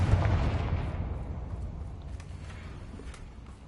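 A fire blast spell from Hogwarts Legacy goes off as a deep, rumbling explosive burst, loudest at the onset and then decaying into a fading low roar over a few seconds.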